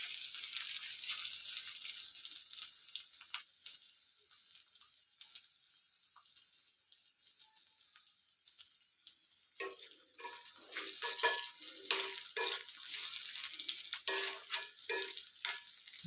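Ripe ethapazham banana sautéing in a pan until roasted and soft: a steady close sizzle with irregular scrapes and clatters of stirring, growing busier and louder in the second half, with no voices.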